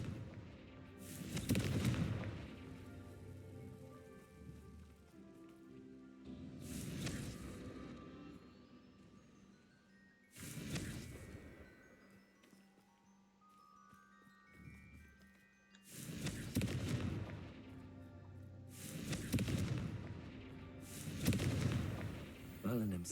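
In Hogwarts Legacy, Confringo spell explosions erupt as five heavy booming blasts at irregular intervals, each with a rumbling tail, fairly faint.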